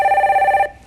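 A telephone rings for an incoming listener call on a Korean stock-market call-in broadcast, a steady electronic trill close and clear, stopping abruptly near the end with no talk over it.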